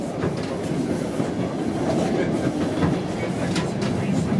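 A train travelling from Kaspi to Tbilisi rolls along the rails with a steady, loud rumble and a continuous clatter of wheels that holds unbroken throughout, with no voices.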